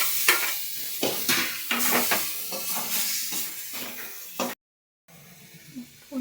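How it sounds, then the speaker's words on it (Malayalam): Tomato and ground spices with curry leaves frying in a pan, a steady close sizzle broken by repeated scraping stirs, then a brief silence before quieter sizzling resumes. "പിന്നെ തക്കാളി ഇടാം."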